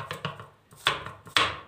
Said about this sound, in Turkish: Yemeklik doğrayacağım çünkü.